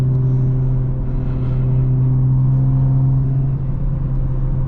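Turbocharged BMW M340i in Sport Plus mode accelerating hard, a loud, steady low engine drone with rising harmonics heard from inside the car, continuous throughout.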